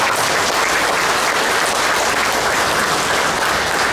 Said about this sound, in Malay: Tepukan untuk semua.